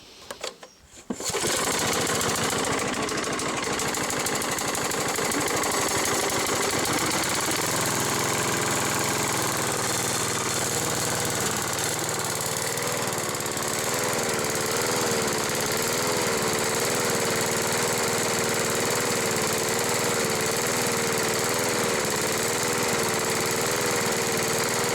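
A Peugeot TA514 lawn mower engine restarts after a brief rattle and settles into a loud, continuous running drone with a slightly wavering pitch, close by and without speech.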